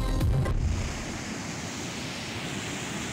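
Floodwater from mountain runoff roars through swollen rivers and streams in a constant, loud broadband rush, with a brief louder splash at the start.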